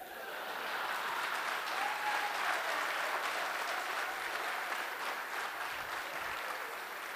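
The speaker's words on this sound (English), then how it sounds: "you all were clapping" An audience at a youth conclave session claps together, a dense, continuous wash of applause that swells early, holds steady, and eases slightly toward the end.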